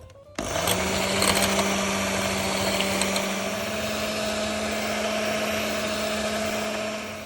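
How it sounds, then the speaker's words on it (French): An electric mixer beats egg yolks for a soufflé omelette with chanterelles, starting abruptly and holding a steady, loud whirring drone with a sustained motor hum for several seconds before easing off. "Et maintenant, je bats les jaunes."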